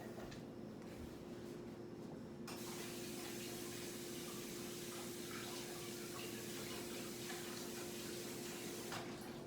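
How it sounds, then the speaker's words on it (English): Water from a tap runs steadily while hands are washed, a constant close splashing spray that brightens partway through and continues to the end. No talking. "Well, I gotta wash my hands, so give me a second."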